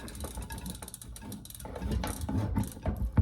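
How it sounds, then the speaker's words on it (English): A lock ring tool tightening the lock ring on a bicycle freehub body: a brief close run of ratcheting clicks and metallic scraping, fairly quiet, with no talking. "And take that lock ring tool, tighten it up."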